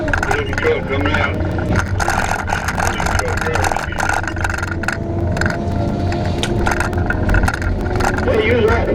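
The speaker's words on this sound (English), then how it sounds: "Look at the truck coming out." A truck pulls out at a forestry site where a John Deere 853M thins trees, its engine a steady low rumble with scraping and rattling while people talk over it.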